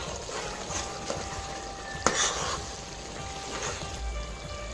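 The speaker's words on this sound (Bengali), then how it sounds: "এবার মশলাটাকে ভালো করে কষিয়ে নেব।" Spice masala with sugar fries in a pan for chicken biryani, giving a faint, steady sizzle with occasional soft stirring scrapes and one sharper clink partway through.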